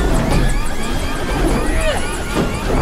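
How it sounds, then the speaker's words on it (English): A helicopter free-falls in the final mission of Call of Duty: Black Ops 6, giving a loud, dense roar of rotor and engine noise with whistling tones throughout. "We in a fucking helicopter free-falling"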